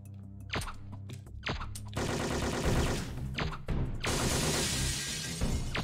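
Rapid strafing gunfire in a retro video game, loud, dense bursts of shots and crashing impacts that build into near-continuous fire over several seconds, with no talking.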